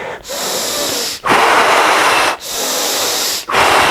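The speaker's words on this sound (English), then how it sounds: "Like really deep breathing. This is like exaggerated." Loud, exaggerated breaths up close, long airy inhales and exhales alternating in a steady rhythm, each separated by a brief pause.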